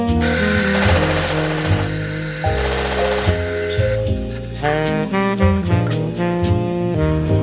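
Loud, continuous whine of a power drill boring a hole with a 4.5 mm drill bit, the motor's pitch shifting in steps as it works, close up.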